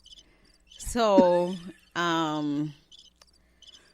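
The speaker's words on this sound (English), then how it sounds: "So you got that dry cricket in there." Two drawn-out, buzzing cricket chirps sound close and clear after a brief spoken word, separated by a short pause, with quiet faint chirps in the background.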